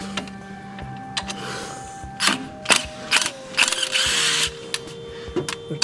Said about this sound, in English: Our trusty Ingersoll wrench.